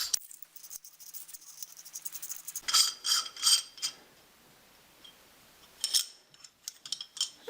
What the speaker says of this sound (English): So I will just screw that into this extension tube here.